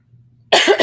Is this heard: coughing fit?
yes